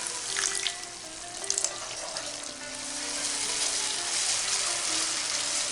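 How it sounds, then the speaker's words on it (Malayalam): A splash of water poured into sautéed Arabian masala in a pan, producing a steady hissing sizzle at moderate volume with a few brief utensil taps early on and no talk. "ഇതിലേക്ക് അല്പം വെള്ളം ഒഴിച്ചു കൊടുക്കാം"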